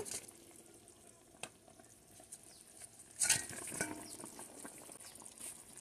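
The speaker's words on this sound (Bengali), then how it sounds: "এখন আমি ভেজে রাখা মাছগুলো দিয়ে দিব।" Fried rui fish goes into a simmering potato and bean curry, a faint bubbling sizzle with soft taps, then a brief louder burst of spattering and stirring that settles back down.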